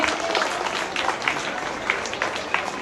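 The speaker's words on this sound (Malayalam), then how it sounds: "കയ്യടി പോലെ മക്കളെ നല്ല ഉഷാറായിട്ട് അടിച്ചേ" Children applauding at a school prize-giving event, a dense, continuous patter of many small hands clapping at moderate distance, while an adult voice speaks over it.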